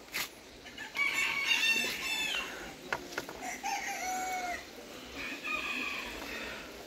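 Brahma Splash chickens, a rooster and four hens, cluck and call close by while the rooster crows in several bursts over steady farmyard background.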